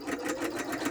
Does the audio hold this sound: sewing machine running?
yes